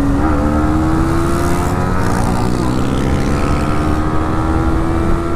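A KTM Duke 390 BS4 motorcycle roars loudly and continuously, its engine tone climbing steadily as it pulls hard after a downshift, with heavy wind buffeting throughout.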